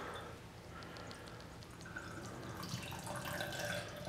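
Liquid Play-Doh smoothie is poured through a fine sieve, a soft continuous trickle and splash that stays faint and steady, slightly busier toward the end.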